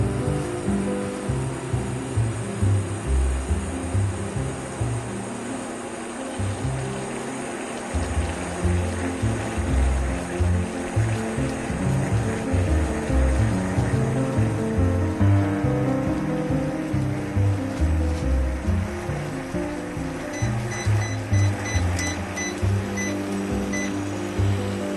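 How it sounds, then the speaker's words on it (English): Water heats toward a boil on a Breville Ikon BIC200 induction cooker, a dense, continuous bubbling and rumbling churn with a faint electrical hum, steady and close throughout with no voices. "There are bubbles beginning to appear."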